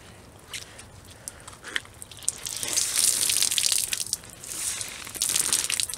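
Water crackles and streams out as a soaked chamois is wrung, a steady rushing splatter that swells and continues, close and loud.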